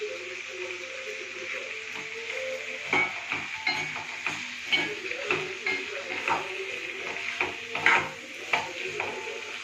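Mint and coriander leaves sauté in a pan for puthina chutney, with a low sizzle under repeated scraping strokes of a spoon as the greens are stirred.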